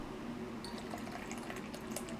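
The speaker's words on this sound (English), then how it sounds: "I just top these off with some boiling water to make sure that they bring up the temperature of the china" Boiling water poured into a china teapot, heard as a faint, steady trickle and splash for about two seconds, with no talk.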